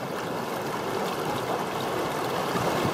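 River water flows steadily over bedrock around rocks mid-stream, a continuous broad rushing hiss at moderate level with no voices.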